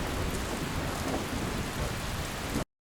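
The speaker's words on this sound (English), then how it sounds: "thunder." A thunder and rain sound effect: a dense, continuous roar of rainfall mixed with low rumbling, held at an even level before cutting off abruptly near the end.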